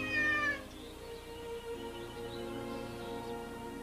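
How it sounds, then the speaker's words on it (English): A cat gives a single clear meow at the start and then falls quiet, leaving only a faint steady indoor background hum. "You're really some kind of cat, you know that?"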